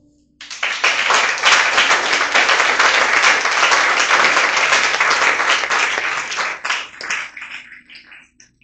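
A church congregation at a Sunday service bursts into loud, sustained applause, dense clapping holding steady for several seconds before thinning out and tapering off near the end.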